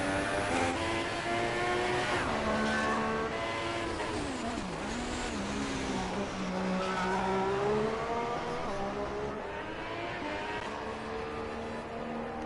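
Screaming GP2 race car engine in a racing video game at the Canada round, a continuous high-pitched whine with harmonic pitch sweeping down and up through gear changes and braking, loud and steady throughout.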